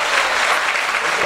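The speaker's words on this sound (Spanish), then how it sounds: "Un cariñoso aplauso para ellos." Dense, steady applause from the audience for a tuna, a traditional Spanish student music group, at a family anniversary celebration, filling the short moment with even, close clapping.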